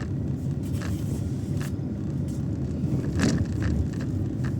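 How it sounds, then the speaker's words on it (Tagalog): Steady street traffic in San Isidro, Cabanatuan City, Nueva Ecija: a continuous low rumble of cars, with a few louder passing vehicles rising out of the background wash. "Traffic din dito."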